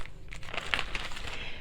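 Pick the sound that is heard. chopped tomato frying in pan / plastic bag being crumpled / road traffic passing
plastic bag being crumpled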